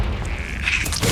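A Confringo blasting spell in the video game Hogwarts Legacy sets off a short, loud booming explosion with a broad rumble and a brief crackling tail.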